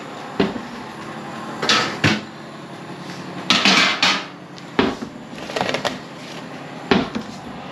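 An oven preheated to 170 degrees is opened and shut as a tray of vol-au-vent pastry cases goes in, giving several close wooden-sounding clunks and thumps spaced irregularly, with no talk.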